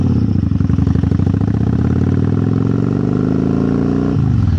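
Excelsior Henderson Super X motorcycle engine running loud and steady up close while being ridden hard, its pitch climbing smoothly under load before dropping sharply near the end as the rider backs off.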